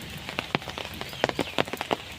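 Heavy rain falling outdoors near a small pond or embankment, heard as a dense patter of drops striking surfaces with scattered louder splats, steady and fairly close with no voices.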